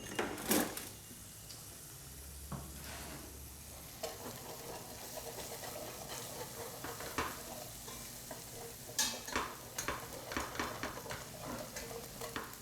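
A whisk stirring sauce in a hot pan, scraping and clinking against the metal over a soft sizzle, with irregular bursts of brisk stirring near and fairly quiet.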